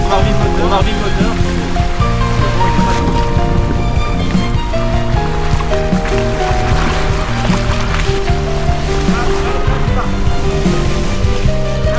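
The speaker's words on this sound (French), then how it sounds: "On a remis le moteur." A sailboat's motor runs at sea off Cherbourg before a storm, a steady low drone with faint tonal hum beneath loud, constant wave and water wash against the hull throughout.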